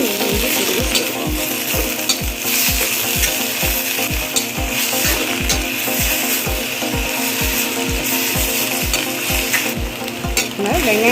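Onion and tomato sautéing in a pan for capsicum chutney: a constant sizzle under evenly spaced scraping strokes of a spoon, roughly two per second, close and steady, with no talking.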